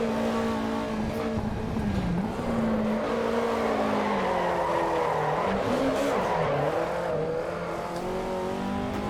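A Toyota AE86 in the racing game Assetto Corsa EVO drives hard, its engine droning and shifting pitch while the tires squeal repeatedly through corners, loud and continuous.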